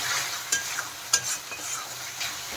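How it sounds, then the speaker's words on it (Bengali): Spice masala being stirred and fried in a pan for a doi rui fish curry, a steady sizzle with a few distinct scraping strokes of the spoon against the pan, close and fairly quiet. "এখন আবার একটু নেড়ে দেব।"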